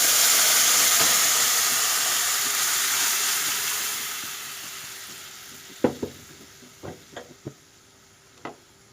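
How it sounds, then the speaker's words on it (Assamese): Boiled peas go into a hot pan for alu matar paneer ghugni, a loud hiss and sizzle that fades over several seconds, followed by a handful of sharp clinks and knocks from stirring. "এতিয়া আমি সিজাই লোৱা মটৰখিনি দি দিম।"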